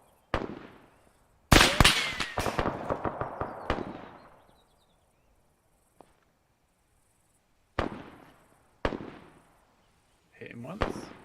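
Enemy gunfire in Arma 3 Antistasi on Altis: scattered sharp shots and a rapid burst echoing with long reverberant tails, some closer and louder, others faint and distant.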